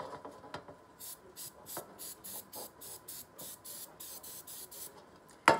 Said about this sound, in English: So here we got a cooking spray, and we're gonna spray it